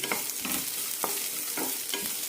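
Sliced onions sautéing in a pan, a dense hissing sizzle throughout with regular stirring scrapes about every half second, near and with no voices.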